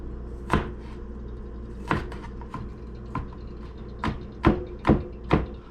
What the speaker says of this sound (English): We're going to start by mincing 1 clove of garlic.